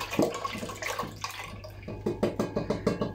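Water boiling in a pot for vanilla sauce, giving a close, steady stream of bubbling and gurgling pulses with a few louder pops toward the end.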